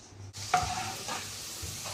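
Almonds fry in hot ghee in a pan for a sweet dish, a soft steady sizzle that swells as the nuts drop in, with a few scraping stirs and no talk.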